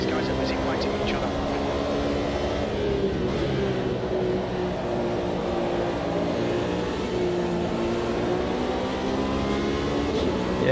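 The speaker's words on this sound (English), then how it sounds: "I figured one of these was a Porsche because I could hear it" A Porsche race car engine roars in Automobilista 2 during a Le Mans 6-hour sim race, a continuous loud drone with a slowly shifting pitch under steady commentary.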